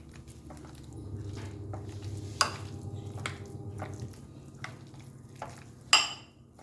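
Marinated shark fish frying in a pan, giving a low steady sizzle with occasional clinks and scrapes of a utensil against the pan and one sharper clack near the end, close and without speech.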